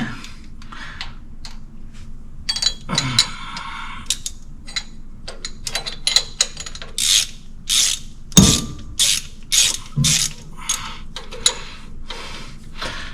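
A ratchet wrench turns a bolt under a car hood in a garage, with bursts of rapid clicking pawl ticks, some short and some longer, plus a few metallic clunks between strokes, close and clear.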